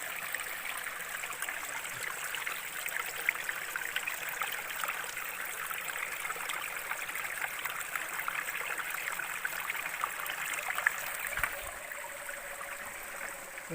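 A clear mountain stream flows steadily over rocks at a drinking-water spot, a constant soft rush and trickle heard close but fairly quiet, with no voices.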